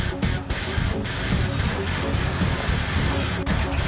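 A 2005 Mercedes E320 W211 wagon drives along with a continuous, fairly loud wash of engine and road noise heard up close, holding steady for the few seconds.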